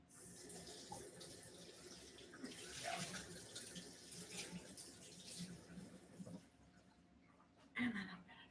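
Soapy hands are rinsed under a running tap, the water splashing and streaming unevenly as the hands move through it, faint and close, with a brief louder splash near the end.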